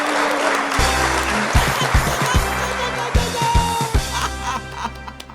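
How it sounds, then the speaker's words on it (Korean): Children at a Sunday worship service clap together in praise, a lively run of claps over steady low music, with scattered bright claps standing out and a little laughter mixed in. "우리 하나님께 영광의 박수"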